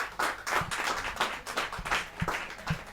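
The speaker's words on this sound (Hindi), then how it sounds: "क्या तालियां बजे तो ढंग से बजे ना" A few people clap at a Hindi poetry gathering, quick close claps in an uneven rhythm with a handful of sharper slaps standing out, moderately loud and without speech.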